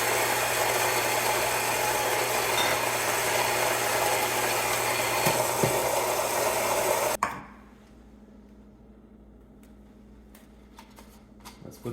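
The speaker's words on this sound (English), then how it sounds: "I'm going to grind at a grind setting of 8 on my Ode Gen 2 grinder over here." A Fellow Ode Gen 2 burr grinder grinding coffee beans at a medium-coarse setting, a steady close whirring grind lasting several seconds that stops abruptly, followed by faint clicks and handling noises.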